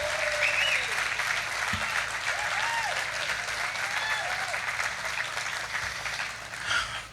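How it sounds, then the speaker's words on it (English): An audience at a city's State of the City address breaks into sustained applause, a broad, even roar of clapping that carries steadily throughout, with faint voices and cheers mixed in. "join with me in giving John Pete a round of applause."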